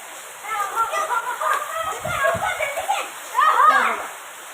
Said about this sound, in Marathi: पाच मिनटं झाला पाऊस चालू होऊन